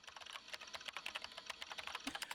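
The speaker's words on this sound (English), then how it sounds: "The only sound present in the room was the distinct clacking of a keyboard." Fast, even clacking of computer keyboard keys from the visual novel Chaos;Head NOAH, a steady run of light, close keystrokes, quiet and alone in a silent room.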